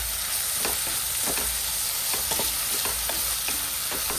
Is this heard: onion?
yes